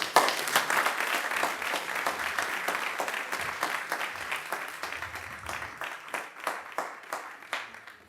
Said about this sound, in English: And an applause for him for his work.